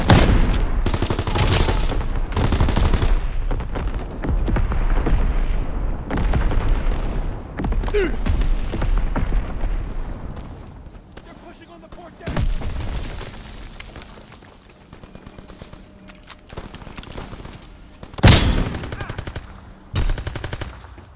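Artillery strikes in Call of Duty WWII: dense, continuous machine-gun fire and repeated booming explosions, with a sharp loud blast near the end and quieter gaps between volleys.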